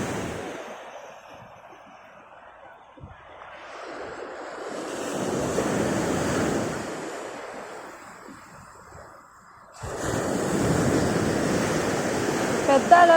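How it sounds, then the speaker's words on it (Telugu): Ocean waves surge and break on a beach in repeated slow swells, with a loud roar building and fading in each one and wind buffeting the microphone; faint voices come through. "పెద్ద అలలు వస్తే పారిపోవాలి కొట్టుకోపోతాం"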